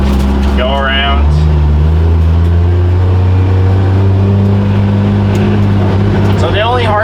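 A BMW with an N54 engine and 8HP50 automatic gearbox drives off and shifts up, its steady low engine drone rising and settling through the gear change, loud and close, with a person talking over it.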